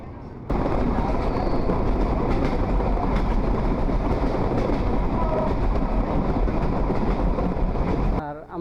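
Madhumati Express pulling out of Kalukhali station, a dense rumbling clatter of the moving train heard from on board, loud and continuous before cutting off abruptly near the end.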